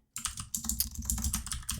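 Rapid typing on a computer keyboard while coding a Discord.js bot, a close, busy patter of key clicks after a brief silent start, with no talking.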